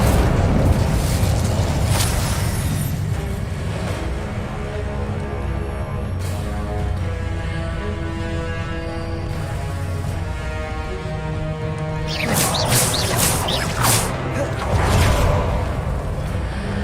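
Fiery spell bursts in the Hogwarts Legacy video game, loud booming whooshes and blasts layered over continuous dense combat noise and music, with sharper crackling bursts near the end.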